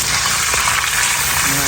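Breaded food fries in hot oil, a loud, dense and steady sizzle with a constant crackling hiss lasting the whole short moment.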